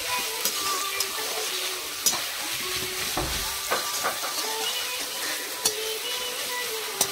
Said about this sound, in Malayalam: ഉള്ളിയും പച്ചമുളകും നമ്മൾ ഒന്ന് നല്ല ബ്രൗൺ കളർ ആകുന്നിടം വരെ ഇളക്കുക.